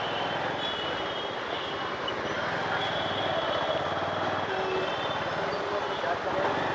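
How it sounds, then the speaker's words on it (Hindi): Mumbai monorail train passing on its elevated track, a steady loud rolling rumble mixed with city traffic noise that holds for the whole stretch, with someone talking over it. "ये मोनोरेल यहीं से गुज़रती है."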